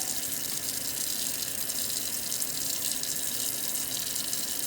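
Raw chicken is rinsed under a running kitchen tap, a loud, steady gushing stream into the sink that hisses continuously from start to finish with no talk.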